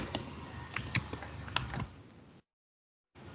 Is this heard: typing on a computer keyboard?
yes